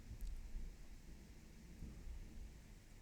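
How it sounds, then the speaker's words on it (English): Thunder rolls during a heavy rainstorm as a low, continuous rumble with a few swelling peaks under a steady hiss of rain, heard faintly at a distance with no talking. "Oh, those are some loud thunderclaps."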